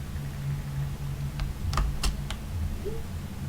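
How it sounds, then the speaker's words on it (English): A noisy keyboard spacebar clacks several times in quick, sharp bursts over a steady low hum, with a couple of lighter key taps around them. "the spacebar on my keyboard is very noisy"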